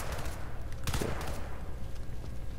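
Gunfire in Crysis 2 in a sewer subway setting: a short cluster of sharp shots lands near the middle, over a steady low rumble of game ambience.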